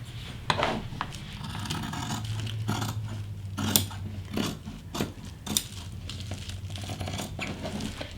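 Scissors cutting out a sewing pattern on fabric, a steady run of close, soft crisp snips and blade clicks with light rustling as the paper and cloth shift, without speech.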